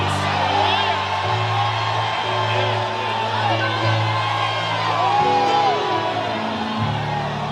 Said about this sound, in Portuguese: dê um grito de glória